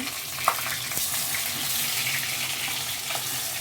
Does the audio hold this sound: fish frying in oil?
yes